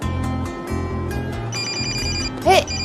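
A mobile phone rings with a repeating electronic ringtone, loud and close, its bright pulsing tones continuing throughout with a low rumble beneath.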